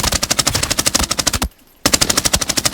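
Rapid automatic gunfire in the shooter game Arena Breakout Infinite, loud and close, in two sustained bursts of evenly spaced shots separated by a short silent pause.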